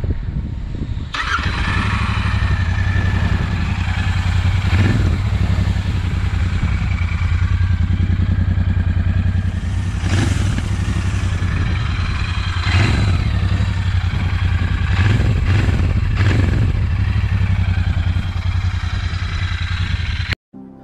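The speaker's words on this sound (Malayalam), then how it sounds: "നമുക്കിനി ഈ വാഹനത്തിൻ്റെ എക്സോസ് സൗണ്ട് ജസ്റ്റ് ഒന്ന് നോക്കാം." A Royal Enfield Continental GT650 with dual exhausts starts up and settles into a deep, thumping idle, broken by several sharp throttle blips, all close and loud with no talking.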